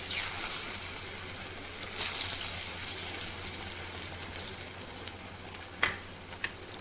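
Potato and onion frying together in hot oil seasoned with black cumin, after fish was fried in the same oil: a steady, close sizzle with crackles, one sharper spatter burst early on, no talking.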